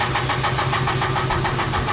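A 1993 Geo car engine running, a steady close idle with an even rhythmic pulsing throughout, loud and alone with no voices.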